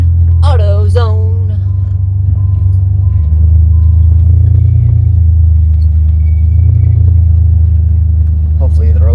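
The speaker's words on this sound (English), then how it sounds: "PRV engines, they may be unreliable, but by golly, they sound good." A 1990 Eagle Premier with a PRV V6 engine hums steadily while driving, a loud low-pitched drone that runs throughout with mild swells, and a voice is heard briefly near the start.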